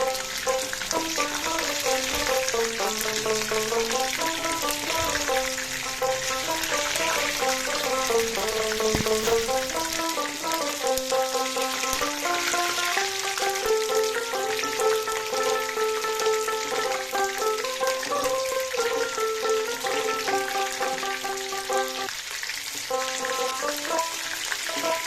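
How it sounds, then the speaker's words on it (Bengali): Lentil and prawn muitha dumplings frying in hot oil give a steady, close sizzle that runs throughout, partly masked by louder melodic background music. "একটা পিঠ ভাজা হয়ে গেছে, এখন আস্তে আস্তে উল্টে দেব এবং 2 পিঠই হালকা লাল করে ভেজে নেব"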